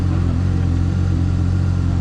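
Can-Am Maverick R off-road vehicle engine running hard, a loud, close, continuous rumble with a steady tone and no voices.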